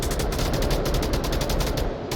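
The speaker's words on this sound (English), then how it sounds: "there's a whole bunch of gunfire going on." M249 machine gun fire in the VR shooter Onward during a competitive match, rapid sustained bursts of shots in an even rhythm, loud and close, with no voices.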